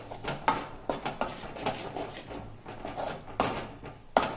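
A spoon scraping and tapping in a pan as ginger-garlic paste with turmeric is stirred for an eggplant curry, a run of irregular metallic clinks and scrapes close by.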